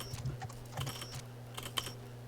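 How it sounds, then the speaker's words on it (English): Typing on a computer keyboard, soft clustered keystroke bursts in short irregular runs over a steady low electrical hum, close and fairly quiet, with no talking. "Oh no, I hear you typing."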